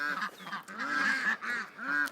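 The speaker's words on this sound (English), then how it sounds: "All right, let's let our ducks out." A large flock of over a thousand ducks, let out of their pen during a summer heatwave, gives steady, overlapping nasal honks and quacks that rise and fall in quick, repeated bursts.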